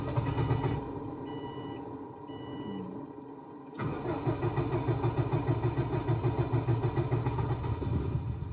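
Rally car engine cranking and firing, a rhythmic pulsing idle that drops away near the middle, then catches again with a sharp start and settles into a steady loud rumble.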